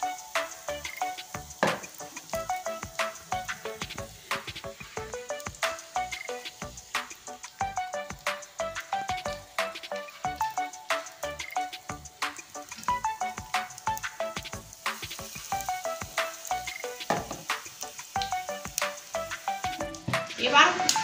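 Crispy pumpkin leaf fritters (bora) fry in oil over lowered heat. A continuous close sizzle runs throughout, with frequent small clinks and taps of a utensil against the pan. A voice and background music can be heard.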